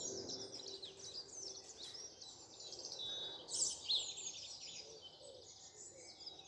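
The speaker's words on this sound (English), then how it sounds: "I should shut up so you can hear the birds." Birds sing in the morning countryside in spring, a dense, continuous chorus of high chirps and trills at moderate distance, with one nearer, brighter call standing out briefly midway.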